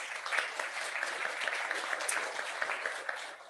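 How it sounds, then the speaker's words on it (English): Steady applause from a studio audience during a Bow Tie Tuesday segment, a dense wash of many hands clapping continuously for a few seconds at moderate distance, with no voices over it. "Let's have a round of applause."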